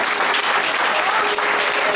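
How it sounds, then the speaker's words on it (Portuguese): Dense applause from a church congregation fills the space, loud and steady throughout with no pause. "trouxe um aplauso para ele nessa noite."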